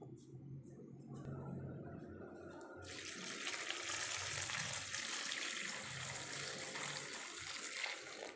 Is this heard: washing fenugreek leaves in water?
yes